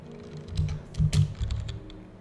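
Quick bursts of keystrokes clatter on a computer keyboard, close and moderately loud, in a short irregular run with brief pauses between clusters.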